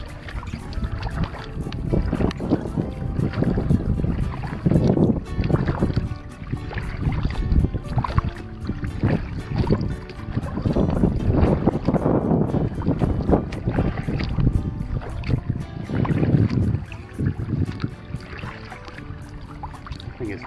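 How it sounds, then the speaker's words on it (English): Wind buffets the microphone while a kayak is paddled on open water near an island at low tide, a steady loud rushing roar swelling and easing in gusts, with no talking. "Now I'm getting a little relief from the wind."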